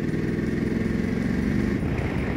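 A Voge DS900X Valico motorcycle engine pulls uphill in fourth gear at low revs, giving a steady, close, throbbing low drone with a continuous even beat throughout and no talk.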